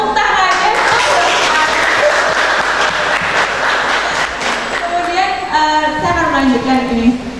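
Sustained applause from a talk-show audience, loud and dense throughout, with a presenter's voice cutting in over the clapping near the end.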